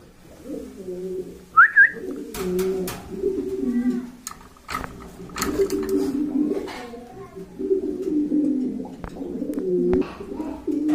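Large pigeons coo in soft, repeated low rolls close by at a pigeon sale, with a brief higher whistle-like call early and a few sharp knocks scattered through.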